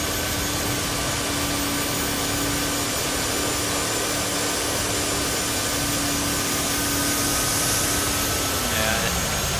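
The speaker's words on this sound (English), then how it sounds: "Starting engine up 2." A Lockheed SR-71 Blackbird jet engine spools up in the X-Plane 12 flight simulator, a loud continuous roaring whine with steady tonal hums that builds slightly toward the end.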